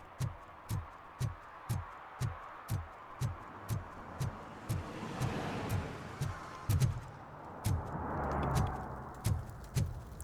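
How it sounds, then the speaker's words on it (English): Cars drive over a bridge in RoboCop: Rogue City, producing a steady series of evenly spaced low thumps as tires cross expansion joints, with a passing vehicle's swelling rumble midway, fairly faint and distant. "Like the cars going over the bridge."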